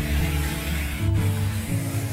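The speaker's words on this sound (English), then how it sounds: "we like to sand it just a little bit with some 80 grit and a flat block just to rough it up" A wooden face frame is sanded with 80-grit paper on a flat block, giving a steady, close, rough scratching rub with a brief pause midway and no talking.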